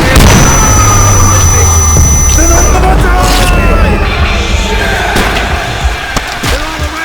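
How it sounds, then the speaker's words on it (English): Explosive charges detonate in a World at War game battle scene, heavy booms and rumbling blasts under chaotic noise and shouted voices. "Charges are ready to blow!"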